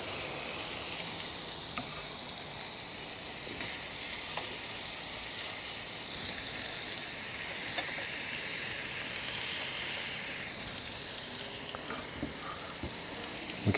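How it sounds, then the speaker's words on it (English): Steady, dense sizzling of meat on a hot Ninja Foodi Max grill, a continuous crackling hiss with no talking. "Good sizzling noise."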